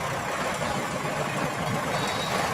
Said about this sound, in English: These gears are spinning at maximum velocity right now. The engine is running at full capacity, pushing us forward.